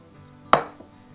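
A knife and fork cut open a cooked Polish pulpety meatball in creamy sauce on a plate, giving one sharp close clack against the plate followed by a softer tap, with no talking.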